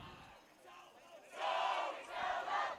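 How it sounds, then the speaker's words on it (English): Crowd at a college men's soccer match on an international night, swelling into loud cheering and shouting in two surges after a quieter murmur, with no talk over it. "Crowd very much into it right now."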